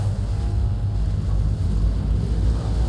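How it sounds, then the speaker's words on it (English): Hull A ship engines in Star Citizen power up as a steady, low rumbling drone with a windy hiss layered on top, holding even throughout with no voices. "Let's go ahead and turn on the engines."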